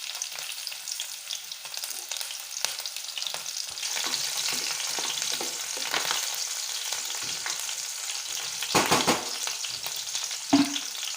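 Chopped garlic and green chillies fry in hot oil with a steady, fairly soft sizzle and crackle, with occasional louder spits and pops heard up close and no talk.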